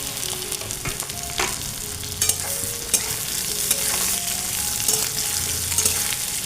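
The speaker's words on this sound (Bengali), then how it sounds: "এবারে আলুটা দিয়ে দিচ্ছি" Potatoes added to hot oil with onion and green chilli for a pointed gourd and shredded fish fry: loud continuous close sizzling, broken by several sharp spatula scrapes and stirring clatters.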